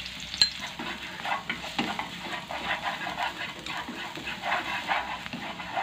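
Minced dried shallots and garlic frying in cooking oil in a pan, for an oyster and tomato sauce dish: a steady, close crackling sizzle with irregular pops throughout.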